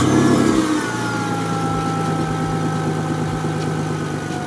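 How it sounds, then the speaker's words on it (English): A 2007–2009 Mitsubishi Galant engine catches and settles into a steady mid-pitched idle with a brief rev at the start, heard close up with no talking. "So now I'm going to turn the car on."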